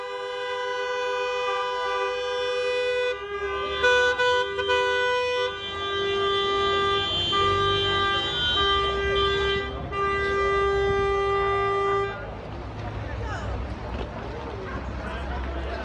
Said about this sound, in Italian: Sentite i clacson.